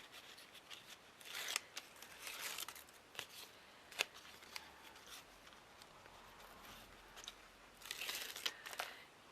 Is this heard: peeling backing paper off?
yes